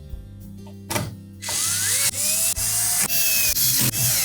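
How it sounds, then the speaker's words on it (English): Power drill driving screws into the side panel of a Whirlpool range, starting with short trigger bursts and then a sustained rising whine in repeated pulses, close and loud. "Now at this point we can put the remainder of the screws in for the side panel."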